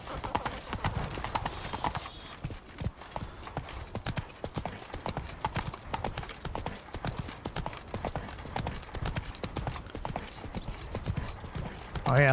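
Roach, the horse in The Witcher 3, gallops in a fast, steady clip-clop of hooves that runs throughout at moderate loudness, with faint game ambience behind and no voices.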